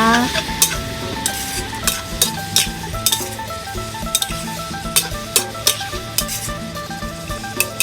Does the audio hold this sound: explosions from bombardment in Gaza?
no